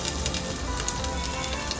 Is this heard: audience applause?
no